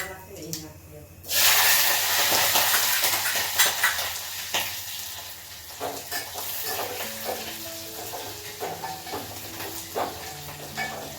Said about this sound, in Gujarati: હવે નાખશું જીરું, પછી આપણે જે મરચાં વઘારવાના છે ને એ નાખીએ